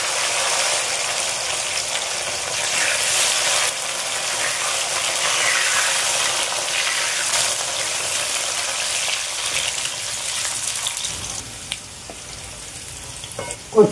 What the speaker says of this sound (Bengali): এর মধ্যে আমি কচুগুলো দিয়ে একটু নাড়াচাড়া করব।